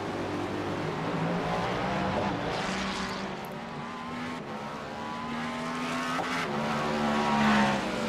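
Race cars at Sebring in an IMSA sim racing game, a GTP car among GT3s, roar past with steady engine drone and rising, shifting pitch, loud and continuous with no talk.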